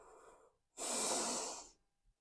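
A yoga practitioner's breathing during a hip-opening flow: a soft inhale, a brief pause, then one long, loud, close exhale through the mouth lasting about a second.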